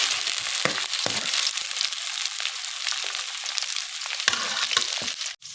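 Okra (bhindi) frying crisp in a pan, a bright, crackling sizzle with intermittent spatula stirs and scrapes, close up and with no talking, ending in a brief clunk.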